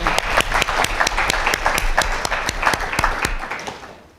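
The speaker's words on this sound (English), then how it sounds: "A round of applause." Audience applause at a university fashion business open day: dense, steady clapping from a room of people, with a few sharper individual claps standing out, fading toward the end.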